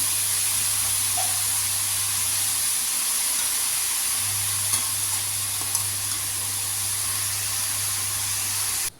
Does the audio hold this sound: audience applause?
no